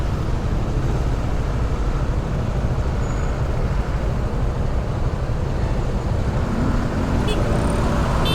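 Busy road traffic with large vehicles like buses and trucks close by, a loud, continuous roar of engines and tyres at an intersection in the early morning, steady throughout without talk.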